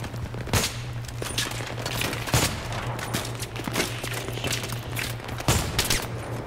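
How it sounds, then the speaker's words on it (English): Bursts of gunfire rattle in a Battlefield 3 campaign firefight, with repeated sharp shots and automatic volleys over a constant low electronic hum. "What the fuck is shooting me?"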